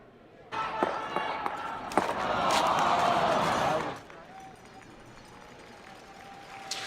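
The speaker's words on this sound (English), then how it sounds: "Just listen to the crowd react as Brad Gushue threw his last rock." A curling crowd reacts to Brad Gushue's last rock, with a sharp thud followed by a swelling roar of cheers and shouts that holds for a few seconds, then drops away to quiet murmuring.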